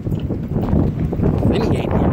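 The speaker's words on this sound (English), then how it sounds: "It's so windy" Strong wind buffets the microphone on a marine dock, a constant loud rumbling roar throughout, with faint sounds in the background.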